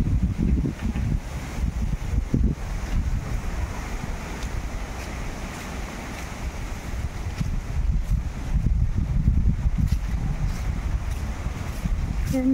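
Strong typhoon wind roars and buffets the microphone in gusts outdoors near floodwater, loud and continuous throughout.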